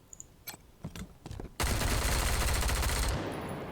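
Sustained automatic gunfire erupts in the Wasteland 3 video game, a dense, loud burst lasting about a second and a half after a few sharper isolated shots and clicks, then cutting off abruptly.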